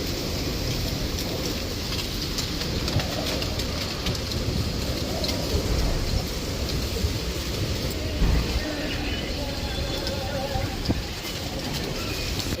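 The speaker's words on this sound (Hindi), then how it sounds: "इसीलिए इसी वजह से जो है इतनी तेज़ हवा चल रही है" Strong wind roars steadily throughout, a broad, constant rushing noise with occasional gusts and rattles.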